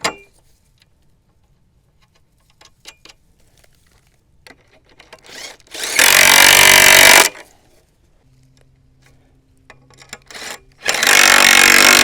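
A power tool screws geodesic dome connectors together in two loud, close bursts of whirring. Quieter clinks and handling sounds come before and between the bursts.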